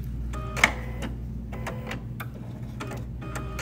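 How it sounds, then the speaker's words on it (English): A sewing machine stitches a seam on a cosmetic bag, giving a soft ticking run of needle strikes in short spaced bursts with a faint motor hum underneath. "I'm going to sew that seam."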